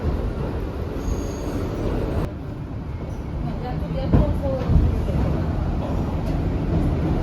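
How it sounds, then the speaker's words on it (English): A steady low rumble of a moving New York subway train from inside the car, with faint clanks and voices under the drone. "On the train to the pizza shop."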